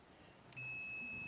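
A cheap multimeter set to continuity mode gives a loud, steady high-pitched beep that starts abruptly partway through and holds, close and alone after a faint hiss.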